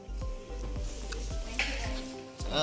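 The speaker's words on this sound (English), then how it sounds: "that's heating up now, so I'm going to put in my leek first" Chopped leek sizzles and crackles in a heated pan, with a steady frying hiss broken by a few clinks of a utensil against the pan.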